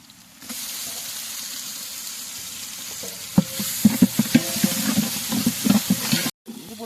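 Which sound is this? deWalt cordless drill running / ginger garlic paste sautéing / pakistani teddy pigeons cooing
ginger garlic paste sautéing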